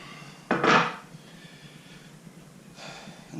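Apple pieces tipped into apple and cinnamon cake mix in a bowl, a short soft clattering thump followed by quieter shuffling, close and faint in a quiet kitchen.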